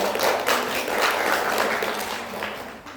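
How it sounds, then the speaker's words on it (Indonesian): A small group claps steadily for a few seconds, a close, even patter of applause. "Beri tepuk tangan dulu ya."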